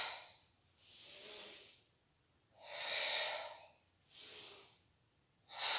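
Slow, deep breaths during a Pilates exercise, four soft airy exhalations spaced a second or two apart, close and quiet with stillness between them.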